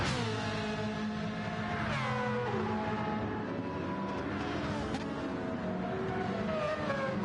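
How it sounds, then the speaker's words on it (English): A rotary-engined race car in Gran Turismo 7 screams at high revs, its tone rising and falling through gear changes in a steady, fairly quiet stream of engine sound during an online race. "I love that screaming rotary engine"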